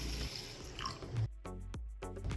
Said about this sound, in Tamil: இப்போ இதை தண்ணி ஊற்றி நல்லா கலக்கிக்கோங்க.